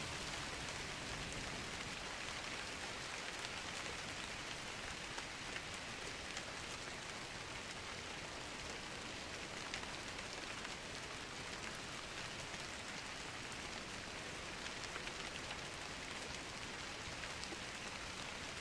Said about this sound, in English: Why is she out here in the rain anyway?